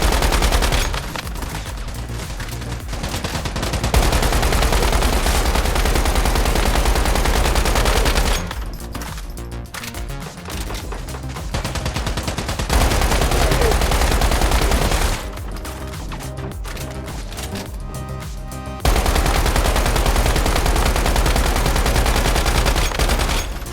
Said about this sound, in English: The assault rifle was really effective at long range, but it was also very effective at close range.